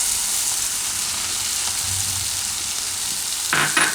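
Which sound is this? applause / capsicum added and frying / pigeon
capsicum added and frying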